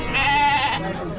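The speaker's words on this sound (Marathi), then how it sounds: "पुढं बघा मेंढ्या आणि बोकड भरपूर आहे" Goats and sheep bleat close by at a large, busy livestock market in Shirur, one sustained wavering call over the crowd's background murmur.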